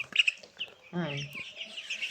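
Colour bird chickens, roosters and hens, cluck nearby in short, choppy bursts, with one longer drawn-out call in the middle against quiet background noise.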